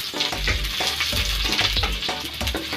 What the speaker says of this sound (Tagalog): Naglagay lang tayo ng mantika dahil po dun sa, dahil igigisa po natin itong bawang